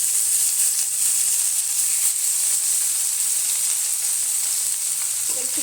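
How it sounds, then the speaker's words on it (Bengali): Parshe fish frying in hot oil in a pan gives a loud, continuous, bright sizzle with steady hiss throughout, close and alone without talk. "তেলটা গরম হয়ে এসছে, এবার আমি পার্শে মাছগুলো ছেড়ে দেবো।"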